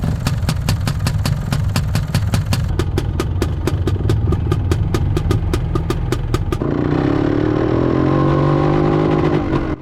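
A Yamaha DT motorcycle engine runs loud and close with a rapid, steady two-stroke clatter, then settles into a smoother, lower drone for the last few seconds.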